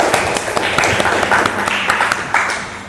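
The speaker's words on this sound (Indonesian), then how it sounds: "tepuk tangan dulu buat kita semua biar semangat" A class claps hands together in a classroom lesson, a short burst of brisk, uneven clapping from a group of students filling the whole moment at moderate loudness.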